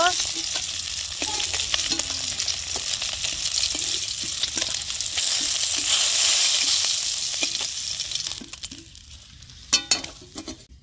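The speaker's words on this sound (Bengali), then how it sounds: "মাছ আমি লবণ আর হলুদ দিয়ে হালকা করে ভেজে নিছি।" Fish seasoned with salt and turmeric fry in hot oil, giving a steady, dense, close sizzle that swells midway and then thins out, with a couple of sharp clinks near the end.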